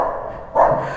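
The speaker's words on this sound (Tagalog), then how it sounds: "Ay, nagulat ako sa aso na Arvin." Single dog bark, loud and close, a short burst partway through, with outdoor ambient noise before and after and no speech.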